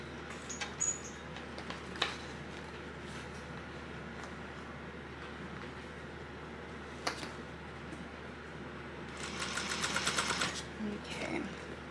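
A sewing machine stitches a 3/8 seam around a bag, a low steady mechanical whir running throughout with occasional clicks and a brief faster burst near the end, while a voice talks in the background.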